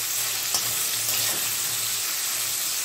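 Onions with spices fry in hot oil for chicken with capsicum, giving a steady close broadband sizzle with a few stirring scrapes and a low hum beneath.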